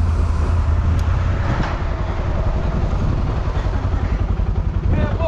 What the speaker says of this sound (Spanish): Henry, Henry, apaga la moto